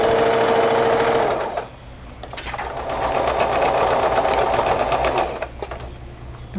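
Sewing machine backstitching a pinned fabric strip for a sewn bag project, a steady loud mechanical whir running in two bursts with a short pause between them, no talking.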